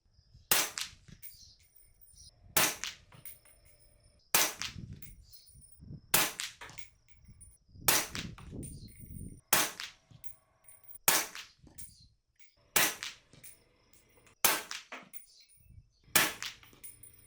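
Subsonic rifle rounds in 338 ARC or 8.6 Blackout fired outdoors at a range, about ten sharp, evenly spaced shots roughly every one and a half seconds, each loud crack followed by a short ringing decay.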